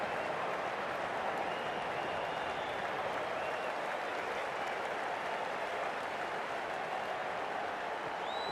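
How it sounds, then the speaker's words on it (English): Cricket crowd at a Hundred match between Manchester Originals and Southern Brave applauding a number-ten batsman walking in, steady broad clapping and crowd noise filling the stadium throughout, fairly distant and continuous. "Please give him a round of applause."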